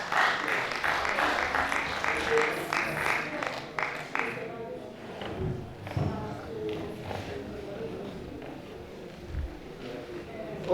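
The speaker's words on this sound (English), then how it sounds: "Please, a round of applause for yourselves for listening." A workshop audience on banana seed certification gives a round of applause, steady dense clapping in a room that thins out and fades after a few seconds, leaving scattered taps and murmuring.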